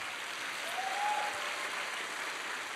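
Brief, steady applause from an audience at a Christian summer camp lecture, an even wash of many hands clapping at moderate volume with no speech over it.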